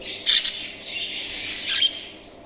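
A green pet bird, likely a budgie, gives a few sharp, close squawks, with two loud bursts near the start and another near the end.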